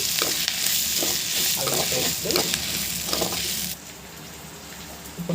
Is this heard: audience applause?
no